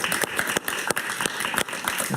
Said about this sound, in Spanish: Un aplauso para Alan, por favor.